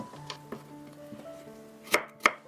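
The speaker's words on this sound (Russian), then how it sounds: "Также сразу порежу небольшой кусочек болгарского перца." A knife cutting a small piece of bell pepper on a board, two crisp, close cuts near the end after a quiet stretch with soft music underneath.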